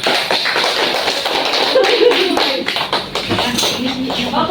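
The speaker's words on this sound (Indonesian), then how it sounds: "kita beri tepuk tangan." Students in a classroom clap for a presenting group, a scattered, tapping round of applause under some voices, lasting a few seconds.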